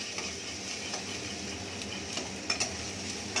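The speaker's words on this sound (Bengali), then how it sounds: "সবজিগুলো ভাজা হচ্ছে, ভাজা হয়ে এসছে" Vegetables for dalia khichuri fry in a pan while a spoon stirs them, making a soft continuous sizzle with light scraping and tapping against the metal.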